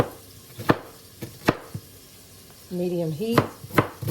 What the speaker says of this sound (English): And I just rough chop this